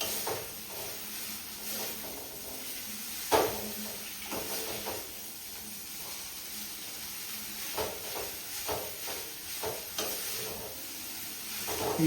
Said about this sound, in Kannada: ಈಗ ಅದನ್ನ ನೂಡಲ್ಸ್ ಹಾಕೊಂಡು ನೀಟಾಗಿ ಮಿಕ್ಸ್ ಮಾಡ್ಕೋಬೇಕು.